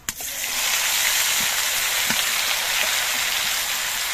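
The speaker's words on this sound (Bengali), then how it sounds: "রসুন, কাঁচা লঙ্কা, কালো জিরে এগুলো ভাজা হয়ে একটা সুন্দর সেন্ট বেরিয়েছে। এবার এর মধ্যে আমি টমেটোগুলো দিয়ে দিচ্ছি।" Green tomatoes drop into hot oil already frying garlic, green chilli and black cumin, setting off a loud, continuous, close sizzle after a sharp initial hit.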